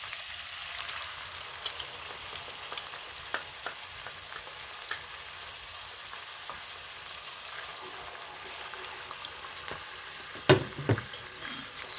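Shrimp paste (bagoong) and ground pork sautéing in a pan give a steady close sizzle with scattered crackles and a few sharper stirring clatters near the end, with no talk.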